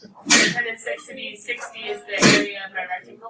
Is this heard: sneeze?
yes